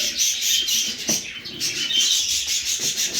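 Budgerigars kept in pairs, some with eggs, chirp and chatter close by in a busy, continuous twittering with soft scratching and rustling underneath.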